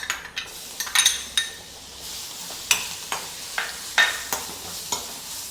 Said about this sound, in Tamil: ஆயில் நல்லா சூடாயிட்டு இப்போ நம்ம வந்து மிக்சியில் கிரைண்ட் பண்ண மசாலாவை போட்டு இதில் வதக்க போகிறோம்